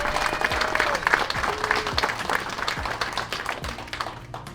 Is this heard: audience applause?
yes